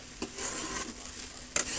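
Chowmein noodles stir-fried in a pan, with soft continuous sizzling and a few brief scraping stirs, close and moderately quiet, no voices.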